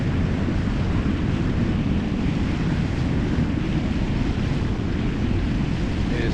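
A boat cruises on Lake Huron in very light wind, with steady broadband water rush and wind noise on the microphone filling the whole span, loud and unbroken, with no talking.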